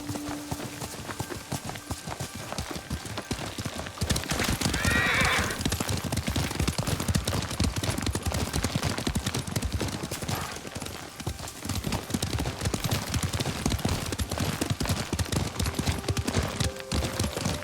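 In the video game Ghost of Tsushima, a horse gallops with rapid, rhythmic hoofbeats that continue throughout, close and prominent, with brief bursts of other game sounds over them.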